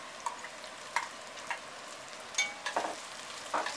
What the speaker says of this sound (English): Then add the chopped red onions to the pot.